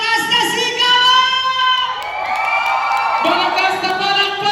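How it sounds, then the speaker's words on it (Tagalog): A live stage-show audience screams and shouts loudly together, high wavering voices rising and falling in one continuous roar that fills the whole stretch. "Pwede ba isang malakas na sigaw?"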